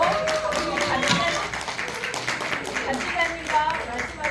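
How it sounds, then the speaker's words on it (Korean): A congregation at a winter church gathering claps steadily in rhythm along with a hymn, the claps blending with loud group singing throughout. "박수 치시면서"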